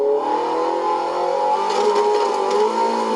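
A V8 engine in Forza Horizon 4 revs hard toward 8000 rpm, a continuous strong buzzing engine note that climbs steadily and holds, loud and close with no voices.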